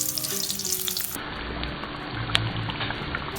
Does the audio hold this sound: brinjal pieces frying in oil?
yes